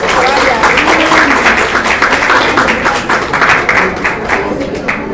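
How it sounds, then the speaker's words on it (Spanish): Dense, steady applause from an audience honouring a female professor at a UNELLEZ university session, with voices talking over the clapping throughout. "Vamos a dar un aplauso a la profesora"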